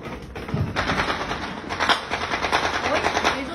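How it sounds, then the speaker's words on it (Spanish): Gunshots ring out in a street in Latin America, a burst of sharp cracks that could pass for fireworks, rattling in quick succession like automatic fire over about three seconds amid outdoor noise. "Como cuando crees que son cohetes y en realidad son balazos."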